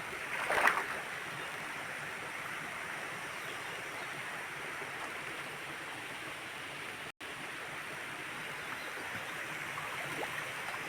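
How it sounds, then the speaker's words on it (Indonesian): A small forest stream flows in a steady, close rushing murmur that stays even throughout, with a brief knock near the start and no talk. "Di sungai ada anak sungai kecil."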